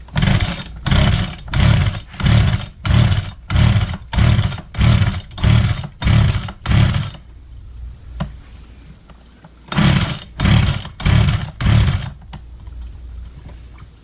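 A Poulan Wild Thing chainsaw just out of a carburetor repair is cranked over, a fast series of rough pull-start bursts, then a pause with faint clicks and a second short run of bursts, close and loud.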